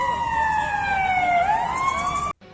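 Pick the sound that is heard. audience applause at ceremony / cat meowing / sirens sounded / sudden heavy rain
sirens sounded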